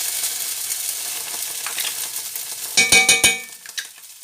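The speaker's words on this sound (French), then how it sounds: "Je mets la tomate concentrée dans l'huile." Tomato paste in hot oil gives a light, close sizzle, followed by a short burst of scraping and clanking as a utensil stirs it in the pan.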